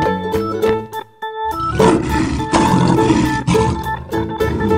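A lion roars in a video game, one loud drawn-out roar starting after a brief gap and running several seconds over ongoing game music.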